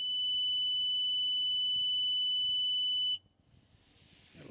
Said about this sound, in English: It'll beep, but the unit remains on.